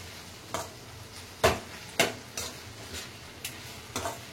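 Mint and coriander leaves sauté in a pan while a spoon stirs them, a quiet sizzle broken by several sharp scraping knocks against the pan at uneven intervals.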